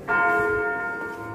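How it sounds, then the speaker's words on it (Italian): A church bell rings out from a bell tower in Munich, one loud sustained strike with a rich ringing tone that slowly fades over about a second, heard alone. "Ogni volta che devo parlare io qui parte l'ambolo con questi campanelli, eh, vedete?"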